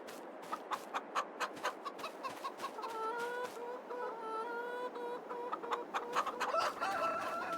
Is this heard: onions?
no